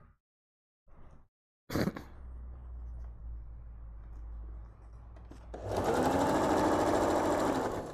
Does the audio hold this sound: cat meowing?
no